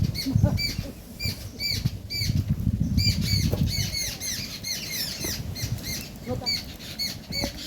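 Flock of birds flapping wings and squawking as they feed on a farm in the open, a steady rustling flutter with bright chirping calls layered over it throughout.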